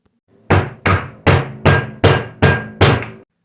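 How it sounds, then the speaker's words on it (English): Seven loud, evenly spaced knocks on a door at midnight, a steady rhythmic rapping close by with nothing else heard. "We jumped out of our skin when we heard the knocking at the door."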